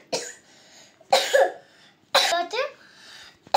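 Three sharp, harsh coughs burst out about a second apart, close and loud, with quiet pauses between them and a short final cough at the end.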